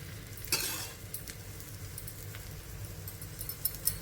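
A moringa and ragi roti fries in a pan with a faint, steady sizzle, broken by a few soft clinks and scrapes of a utensil.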